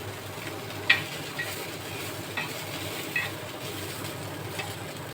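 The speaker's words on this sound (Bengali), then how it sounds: "সবগুলো একসাথে খুব ভালোভাবে মিক্স করে নেব।" Dried chapa shutki fish being stirred with salt in a hot pan, a steady low sizzle with soft scraping strokes and a few sharper clinks from the utensil, close and alone without any voices.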